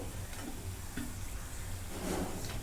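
Maida mathri frying in hot oil over a low gas flame gives a soft, steady sizzle and faint crackle, quiet and continuous with no voices.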